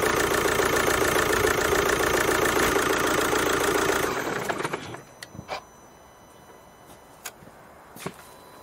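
A Kia/Hyundai 2.0 CRDI diesel engine idles roughly after injector removal and cleaning, loud and steady at first, then dropping to a quieter, uneven run with scattered knocks and clicks.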